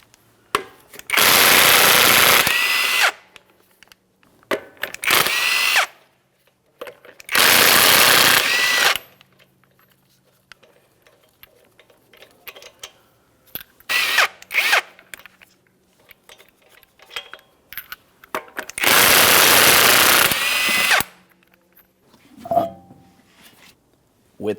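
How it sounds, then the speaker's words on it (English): Impact wrench bursts loosening the five 22mm lug nuts on a Jeep Grand Cherokee front wheel: four loud, roughly one-second rattling blasts spaced apart, with quieter clanks and handling noises in between. "remove all 5 of your 22mm lug nuts and then the wheel"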